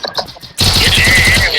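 Video game gunfire bursts into a loud, continuous rapid-fire stream of shots after a brief stretch of muffled sounds, close and dense until the end.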